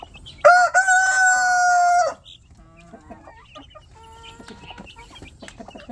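A Rhode Island Red rooster crows once, loud and close, in a long drawn-out call at a backyard poultry farm, followed by faint clucking and chirping from other chickens.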